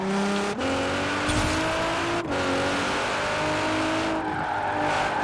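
Nissan GT-R R35 engine in Forza Horizon 4 revving loudly and continuously, with rising pitch sweeps broken by brief gear-shift dips, alone without talk.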